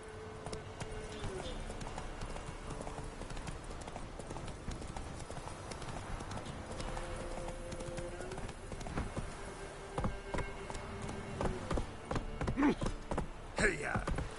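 Roach the horse gallops in The Witcher 3 game, a rapid, continuous run of hoofbeats under game music, with a voice talking at times and louder hits near the end.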